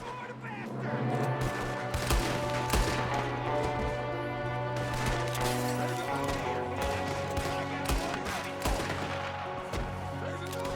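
Red Dead Redemption 2 shootout, with rapid repeated gunshots from several guns cracking over a steady droning musical score, including fire from a window, dense and close throughout.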